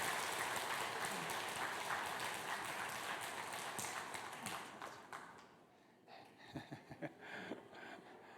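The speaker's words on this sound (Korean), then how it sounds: "박수 부탁합니다." A church congregation claps after a baptism at a Sunday worship service, steady dense applause that thins out, leaving a few scattered near claps at the end.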